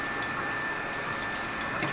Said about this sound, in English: This is the AX 3D printer. Now I print the magnetic shifter.